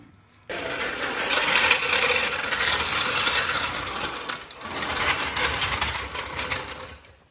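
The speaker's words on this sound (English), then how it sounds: "We're sawzalling the muffler" Reciprocating saw biting through a car muffler, a loud, close, continuous metallic buzzing and rasping that starts abruptly, dips briefly midway, then carries on for several more seconds without talk.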